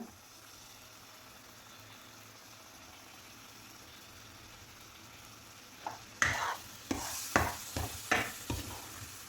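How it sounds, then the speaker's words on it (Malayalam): Rava halwa with saffron milk in a pan: a quiet low hum at first, then a handful of loud stirring scrapes and sloshes in an uneven rhythm, close by, with no talk. "ഒന്ന് ഇളക്കി കൊടുക്കാം"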